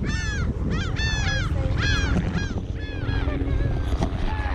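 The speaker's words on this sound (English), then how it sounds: "Bunch of seagulls" Seagulls at a beach in Destin, Florida call loudly in repeated, overlapping squawks and cries close by, over a steady rumble of wind and surf.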